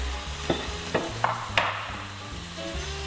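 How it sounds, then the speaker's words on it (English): Pieces of braised beef go back into a hot pan with a steady low sizzle, punctuated by a few sharp clinks and clatters of a utensil; no one speaks. "Now I am just returning my beef to the pan."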